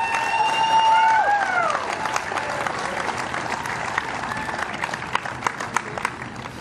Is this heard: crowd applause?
yes